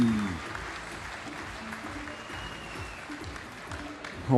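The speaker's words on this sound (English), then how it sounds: "ladies and gentlemen, a round of applause." An audience at the Golden Shears 2012 open shearing competition claps for the shearers in a continuous, even round of applause that holds steady throughout at moderate loudness.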